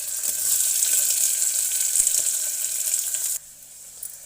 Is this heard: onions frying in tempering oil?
yes